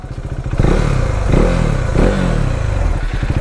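A Kawasaki H2R motorcycle pulls away at full power, a loud, close engine roar that surges and revs in a few rising bursts over a steady low rumble, with no talking.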